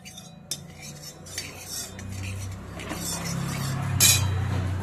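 A spatula scrapes and clinks around a wok while spreading two spoonfuls of white oil for a Purulia-style street egg roll, producing close metallic scrapes and taps under a low steady hum.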